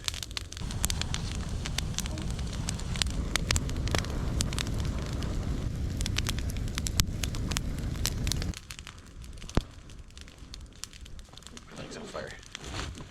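A firewood fire burns around a barrel used to make pine tar and charcoal, giving steady crackling and rushing flames with sharp pops; partway through the roar drops and fainter crackles remain, with some wind noise.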